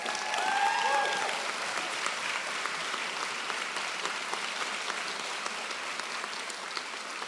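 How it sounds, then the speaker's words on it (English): An audience at a graduation ceremony claps continuously, a dense, even roar of applause filling a hall, with a brief warbling tone near the start. "You can now clap."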